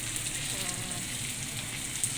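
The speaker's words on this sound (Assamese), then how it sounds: "পাকঘৰত কাম কৰি আছে, মাংস ভাজি আছে।" Meat frying in a pan in a home kitchen gives a steady, close sizzle and crackle that runs evenly throughout with no talking.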